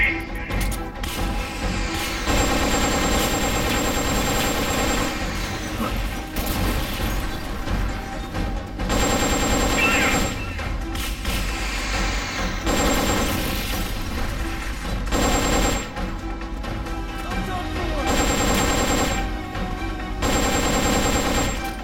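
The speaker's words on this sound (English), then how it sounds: "They've okayed the request for supporting fire." Supporting gunfire barrage in Metal Gear Solid: Peace Walker during a boss fight against the MBTK-70 tank: dense, continuous bursts of gunfire and booms pound steadily and loudly, layered over a sustained game score.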